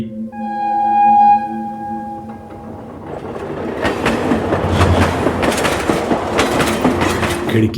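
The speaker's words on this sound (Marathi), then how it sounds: "तेव्हाच अचानक ट्रेन सुद्धा स्टार्ट झाली" A loud train horn blows at the start, then a train pulls away with a growing rumble and rhythmic clickety-clack of wheels on rails, used as a sound effect in a horror story.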